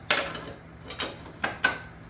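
A hand ratchet with a nine-sixteenth socket loosens bolts on a Troy-Bilt 42-inch mower deck, giving four short, close ratcheting bursts spaced apart.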